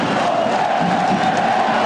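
Dense, steady roar of a football crowd filling a stadium during a Náutico versus Sport match at Estádio Aflitos, a continuous wall of cheering and shouting held at an even, loud level throughout.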